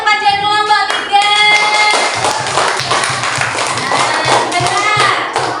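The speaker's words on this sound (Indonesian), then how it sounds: "beri tepuk tangan kepada kelompok 3" Children in a second-grade Islamic ethics class clap for a classmate group, brisk close hand claps under a teacher's singing voice and children's chatter, continuing in a quick patter throughout.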